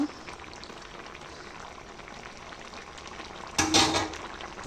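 Bottle gourd boils in a pot with a soft, continuous bubbling, broken near the end by a brief, louder burst of rushing, splashing noise.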